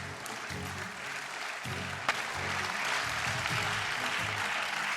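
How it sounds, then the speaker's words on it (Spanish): Members of the European Parliament applaud in the chamber after a vote, a steady wash of clapping with a low murmur of voices underneath and one sharp knock partway through. "Y aplaudía la Eurocámara."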